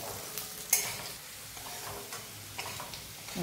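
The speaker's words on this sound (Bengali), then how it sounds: "এখন রসুনটাও আমি লাল করে ভেজে নিচ্ছি" Garlic frying in mustard oil in a home Bengali kitchen, a steady soft sizzle with light stirring scrapes and one sharp clink near the start, no voices.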